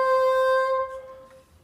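A single sustained bassoon note, the C one octave above middle C, held steady and clear on its own before fading out near the end.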